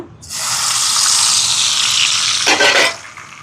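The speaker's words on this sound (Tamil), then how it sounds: "உள்ளி பொரியக்க பார்த்தீங்களா பொரியட்டும்" Garlic frying in hot oil while preparing spicy kara boondi gives a loud, close, steady sizzle that swells briefly near the end.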